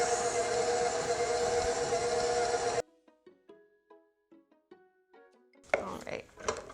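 A stand mixer churns sugar cookie dough with a loud, even motor whir that cuts off abruptly partway through, followed by quiet clinks and a short burst of noise.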